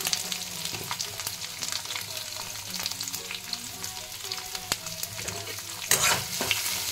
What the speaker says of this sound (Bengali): তারপরে আমি পেঁয়াজ যেগুলো কেটে রেখেছিলাম সেগুলো দিয়ে দেবো আর পেঁয়াজটাকে আমি ভেজে নেব।